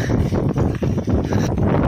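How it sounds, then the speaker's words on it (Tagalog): Strong wind on open sea during a storm after fishing nets have been laid out batters the microphone in loud, roaring gusts with brief lulls, and no voices are heard. "lalo pang lumakas yung hangin"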